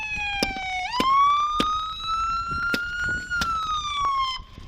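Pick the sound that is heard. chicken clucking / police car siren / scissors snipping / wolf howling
police car siren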